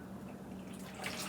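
Water poured from a one-cup measure into a bowl of boxed cake mix in a home kitchen, a soft continuous trickle and splash that swells slightly toward the end, quiet and close.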